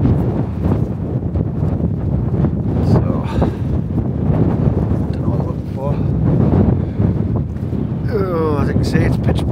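Strong gusting wind buffets and roars across the microphone, rising and falling in waves, with a few faint voice-like sounds, at a dark wild camp in the Cheviot hills.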